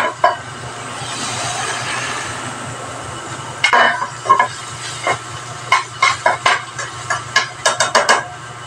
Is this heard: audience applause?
no